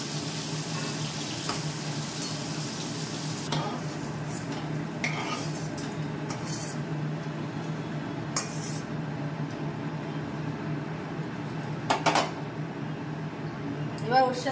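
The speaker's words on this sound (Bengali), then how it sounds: "পনিরটা আমি সাদা তেলেই ভাজছি" Paneer frying in white oil while being stirred: a soft, steady sizzle under a low hum, with occasional spatula clinks and scrapes against the pan, some brighter near the end.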